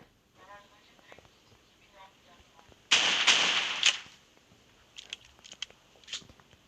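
Gunfire in the mobile shooter PUBG Mobile on the Livik map: a short burst of rapid shots near the middle, followed by a few scattered sharp pops, with players chatting quietly.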